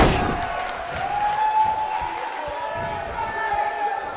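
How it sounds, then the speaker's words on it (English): A sold-out wrestling arena crowd in the WWE 2K19 video game, during a Falls Count Anywhere match, keeps up a steady roar of cheers and noise, with occasional thuds from the action. "We have a sold-out, record-setting crowd here for BCW tonight."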